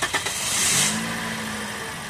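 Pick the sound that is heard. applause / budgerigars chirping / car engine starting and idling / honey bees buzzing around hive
car engine starting and idling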